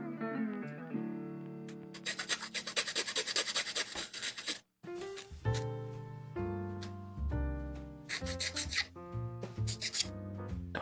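A file scrapes a plastic part from a 1/60 Moderoid Patlabor model kit in close, quiet, rhythmic strokes, broken by brief pauses between bursts of rasping.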